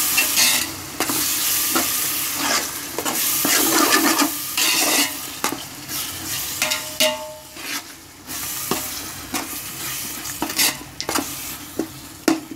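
Ginger-garlic paste sautés in oil for a mutton biryani masala, a loud continuous sizzle with frequent stirring scrapes and clatters against the pan, alone without talk.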